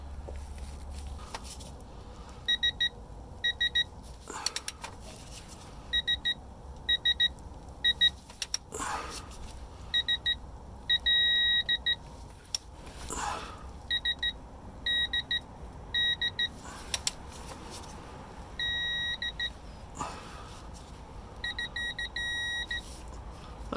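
A digital torque meter set to 18 foot-pounds, used on a 2005 Hummer H2 transfer case, emits repeated short, high double and triple beeps in clusters, with ratcheting and handling noises between.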